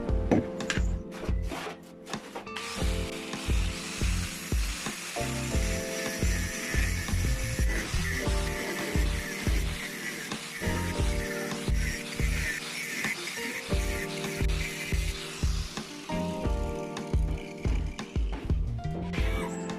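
A steel pipe is cut by hand to make a notch for a joint, producing a long run of steady, rhythmic rasping strokes. The cutting is close and fairly loud, with no talk over it.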